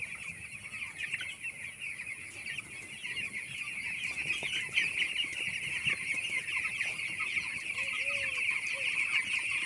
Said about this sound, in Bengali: দেখেছ এপারে কটা পাখি চলে এসছে